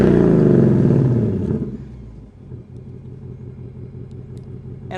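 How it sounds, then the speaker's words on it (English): A 2024 Ford Mustang Dark Horse, 500 hp, revs loud and close on remote start, a deep roaring burst that fades back to a low, steady burbling idle. "go ahead and do the remote revving function. So in order to do this, you just remote start the vehicle"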